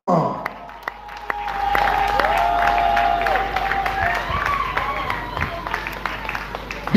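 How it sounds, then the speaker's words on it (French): A show audience applauds and cheers for a comedian invited onto the stage, a dense continuous wash of clapping and crowd noise that swells after the first second and holds steady, with faint voices and whistles mixed in. "je m'en vais inviter sur ce podium l'artiste, comédien, humoriste, JP Mpenge pour sa prestation. Elle sera sous vos applaudissements."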